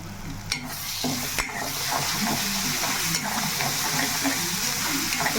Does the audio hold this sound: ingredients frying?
yes